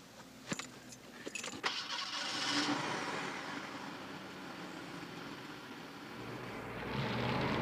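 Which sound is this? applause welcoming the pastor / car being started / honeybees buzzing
car being started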